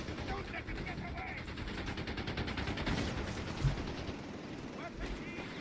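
Gunfire crackles through a World War II strategy game battle between the Afrikakorps and Americans, a dense stream of shots with one sharper burst near the middle, set under voice lines and battle ambience.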